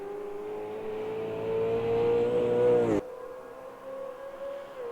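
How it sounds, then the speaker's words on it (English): Race car engines from Automobilista 2 at a Bathurst 500 session drone with a steady harmonic whine that rises, cuts off sharply on a gear change and then settles lower again; loud and up close, with no talk. "Don't these cars sound great?"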